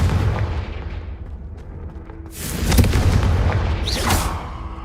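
Confringo fire spells cast in Hogwarts Legacy, heard as a rumbling game soundscape that swells into two louder fiery bursts with crackling whooshes in the second half, with no talk over them.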